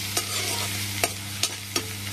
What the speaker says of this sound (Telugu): ఇదిగోండి బిర్యానీ ఆకు కూడా వేసి ఇవన్నీ వేయిస్తున్నాను.